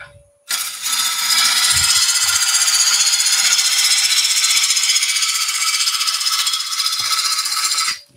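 Wood lathe taking roughing cuts while hollowing with a Woodcut Pro-Forme, a loud, continuous rattling scrape of tool on spinning wood that starts abruptly and holds steady for several seconds before stopping.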